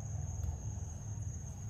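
A grasshopper at night keeps up a steady, continuous high-pitched chirring drone, close and unbroken, over a low background hum with no voices.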